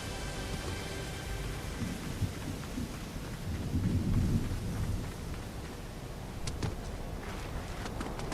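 Thunder and steady rain from a storm in the Fortnite video game during a solo tournament: a continuous wash of rain with a rolling rumble swelling in the middle and sharp crackles near the end.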